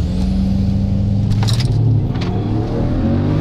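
An all-wheel-drive car accelerates hard in a drag race, its engine roaring loud and close with a steady, rising drone throughout, a couple of sharper bursts cutting through mid-run.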